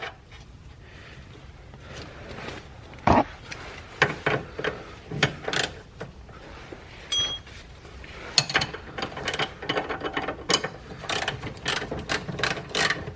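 A hand ratchet tightening a nylon lock nut on a shock bolt of a C4 Corvette rear coilover mount, with sporadic bursts of sharp clicking strokes separated by pauses, close by and fairly quiet.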